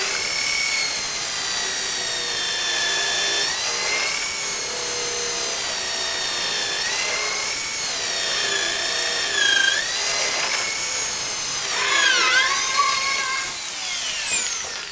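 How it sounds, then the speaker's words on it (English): A hand drill bores through waste wood on a traditional woodworking bench, its motor whining loudly and steadily with pitch dips as the bit loads, then easing near the end as it breaks through. "the drill press doesn't go deep enough, so we have to finish off with the hand drill"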